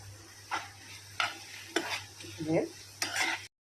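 Washed prawns fry with ginger paste in a pan for prawn curry, a soft sizzle broken by five distinct stirring scrapes of a spoon, close and fairly quiet, ending abruptly.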